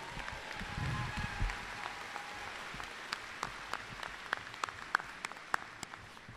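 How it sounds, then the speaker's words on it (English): A room of students, parents and guardians applauds at a high school commencement ceremony, a steady wash of many hands clapping that thins toward the end, leaving scattered louder individual claps standing out. "let's give them a round of applause"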